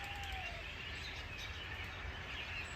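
Birds chirp and tweet outdoors amid a steady background hum, with a brief thin whistle early on and no one speaking.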